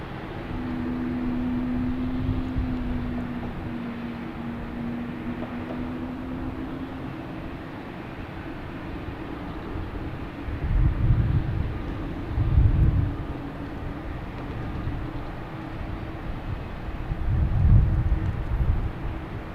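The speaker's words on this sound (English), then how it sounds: "we have JetBlue here heading to Fort Myers, an A320 flight 165" A JetBlue Airbus A320 airliner at Boston Logan Airport gives a steady low jet rumble with a faint whining tone, swelling a few times as it moves, heard from a distance with no talking.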